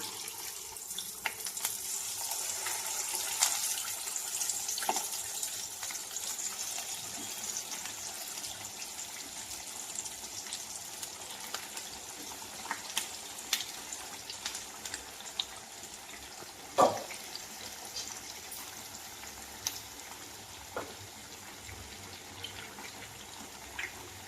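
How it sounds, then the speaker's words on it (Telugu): Chicken leg pieces sizzling in hot frying oil, a steady soft hiss and crackle with occasional small pops, fairly faint and continuous throughout without any voices. "మనం ఇప్పుడు ఈ లెగ్ పీసుల్ని ఒక్కొక్కటిగా ఆయిల్లో వేసేసుకుందాం."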